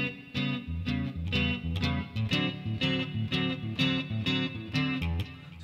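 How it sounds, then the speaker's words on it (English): A fingerpicked electric guitar loops a two-chord shuffle in a live song, with a bouncy, steady rhythm of plucked chords and crisp attacks, played up close with no talking. "Measures 55 and 56 are a two-chord shuffle that he loops and then solos over."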